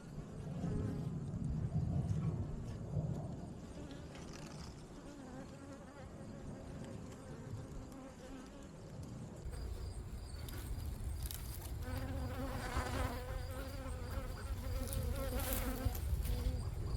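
Honeybees swarm around an opened hive during a weekly frame inspection, a steady close buzz that continues throughout with shifting intensity and occasional handling clinks of frames and tools.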